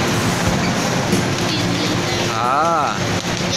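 A Hong Kong MTR train runs at speed, giving a loud, continuous rushing rumble with a tonal whine and brief squeal, heard from inside the carriage as a passenger briefly speaks.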